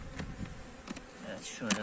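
Honeybees buzz around a beehive at a beekeeping sale, a faint, wavering hum with a few louder close passes near the end.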